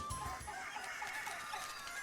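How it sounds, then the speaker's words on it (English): Chickens clucking in a video game, a steady busy run of fowl calls lasting the whole moment over a faint game backdrop, with no talking. "Chickens."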